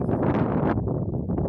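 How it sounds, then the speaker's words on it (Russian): Gusty wind buffets the microphone in low rumbling bursts, with a rustling hiss that drops away midway. "Ветрено сегодня."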